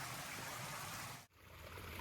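Water from a backyard waterfall pours continuously into a pond, a dense even rushing wash with a brief dip partway through.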